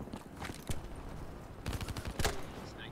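Gunfire in Black Ops 3 gameplay on the China Lake grenade launcher, short bursts of distant-sounding shots and thuds over a steady game backdrop, fairly faint with no speech.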